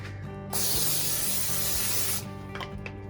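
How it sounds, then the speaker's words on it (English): A steady, close hiss of cooking spray sprayed onto an indoor smoker grill, lasting under two seconds, with a faint rhythmic hum underneath and a few soft clicks afterward. "I also like to spray it with a little bit of cooking spray so it doesn't stick."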